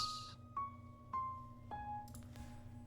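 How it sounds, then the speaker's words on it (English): Noir piano preset, dry, playing a slow sequence of about five soft, separate notes, each decaying gently over a low sustained hum, quiet and alone. "This piano is noir."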